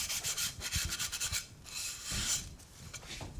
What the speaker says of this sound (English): So just a quick whiz over with the abrasive.